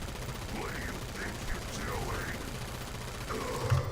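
Sustained automatic fire from a 100-round weapon in Killing Floor 2, a steady mechanical rattle running the whole time under a busy game soundscape, with a voice speaking over it.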